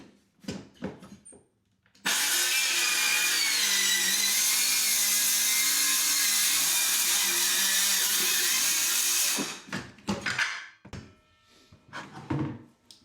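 A power tool cuts bathroom herringbone tile past a recessed pipe in a 1970s bathroom, a loud continuous whine held for about seven seconds, framed by clunks and handling clatter before and after.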